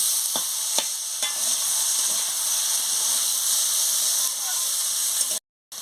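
Boiled turnip frying in a pan gives off a loud, steady sizzling hiss, close up, with a few sharp clicks early on. The sound cuts briefly to silence just before the end.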